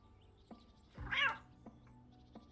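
A cat meows once, a clear rising-falling call in the middle of quiet game sound in Cafe Owner Simulator, with faint ticks around it.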